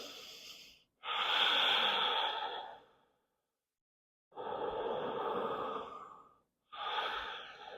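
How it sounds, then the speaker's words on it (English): Slow, deep breaths in and out during a child's pose in a morning yoga flow, three long airy exhales close up, separated by quiet pauses. "I'll take some deep breaths in and out."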